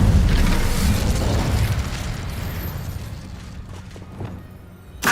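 An Incendio fire spell cast in Hogwarts Legacy, a loud whooshing burst of flame that swells and then slowly fades over several seconds, ending with a brief sharp pop.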